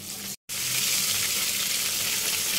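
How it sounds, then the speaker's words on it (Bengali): Chicken pieces fry in a shallow layer of hot oil over medium-low heat, giving a loud, steady, close sizzle that cuts out for an instant near the start and then resumes. "এই তেল গরম হয়ে গেছে, এখন আমি চিকেন দিয়ে দিব"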